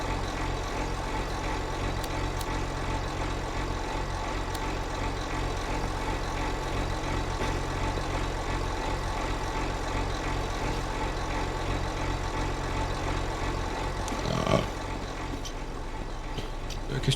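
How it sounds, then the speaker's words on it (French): A farm tractor engine idles steadily nearby with a continuous low rumble, holding an even level throughout and a brief louder bump near the end. "Tu veux laisser le tracteur allumé là?"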